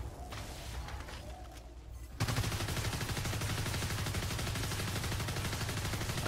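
Rapid automatic gunfire from the video game Evolve starts abruptly after a quieter stretch, then continues as a loud, dense, sustained burst.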